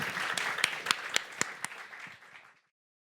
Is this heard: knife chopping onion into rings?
no